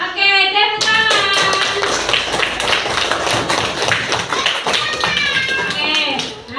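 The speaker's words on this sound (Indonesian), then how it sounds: "Oke, tepuk tangan." Students clapping their hands together in a classroom, a quick run of sharp taps over about six seconds, with children's voices chattering over and around the clapping.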